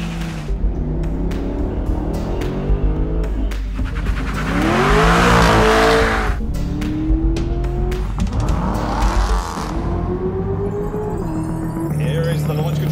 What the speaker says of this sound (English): Here is the launch control of the C8. 8th generation Corvette Z06.